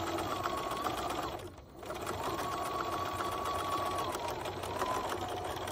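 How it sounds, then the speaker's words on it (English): A sewing machine runs steadily while stitching a face mask for medical workers, a continuous close whir with one brief pause near the middle before the motor picks up again. "I am going to sew all the way up so that the wire can have a stopping place"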